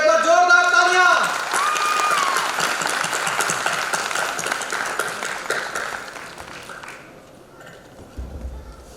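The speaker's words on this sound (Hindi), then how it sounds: "तो एक बार जोरदार तालियां।" Applause at a corps day diamond jubilee celebration, clapping from an audience that swells after a sung or announced opening and slowly fades, with voices over it.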